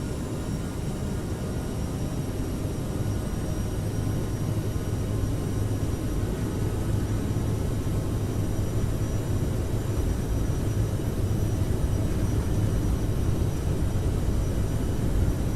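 Airliner engines in Microsoft Flight Simulator hold a loud, steady takeoff-thrust roar, a continuous broadband rumble with faint whining tones that stays even throughout.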